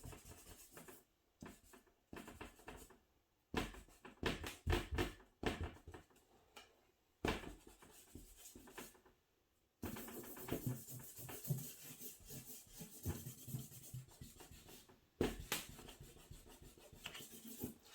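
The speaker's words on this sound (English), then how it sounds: "stick eraser, smaller stick eraser, so that I could get in these tighter areas." A small stick eraser rubs across charcoal drawing paper on a portrait, making faint, close scratchy strokes in short irregular bursts with brief pauses between them.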